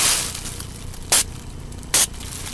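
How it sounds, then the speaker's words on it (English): A Mix Bar Salt Petals hair and body mist is sprayed twice in short, sharp hissing bursts about a second apart, close by over a quiet background. "spray behind my ear, you know, like that, and then spray it on my clothes so I can smell good"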